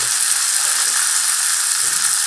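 Vegetables and spices sizzle hard in a hot pan as the spices go in for a dal, a loud, steady, close frying hiss that runs unbroken with no voices over it.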